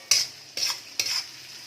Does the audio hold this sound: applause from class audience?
no